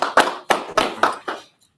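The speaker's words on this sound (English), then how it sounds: "So let's clap up for class one time" A class claps in unison, six sharp group claps in a quick, slightly uneven rhythm, close and loud, ending in silence.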